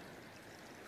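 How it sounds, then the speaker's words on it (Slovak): A mountain creek on a wet hiking trail near a tarn, flowing and rushing in a steady broadband wash, close and continuous with no voices. "Keď prejdeme tento potok."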